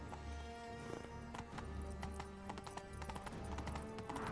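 Roach the horse from The Witcher walks with a steady clip-clop of hooves on hard ground, close and fairly quiet, the footfalls coming in an even rhythm with faint game ambience behind.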